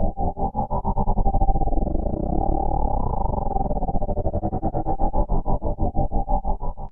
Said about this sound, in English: For stutter effects, there's a gator control with adjustable depth.